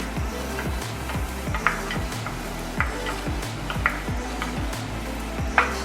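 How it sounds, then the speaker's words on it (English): Tomato paste and stock stirred together in a pan for meatloaf: a steady, rhythmic scraping of a utensil against the pan with a faint sizzle underneath and occasional sharper clinks, close and moderately loud. "Give it a good swish around and stir it"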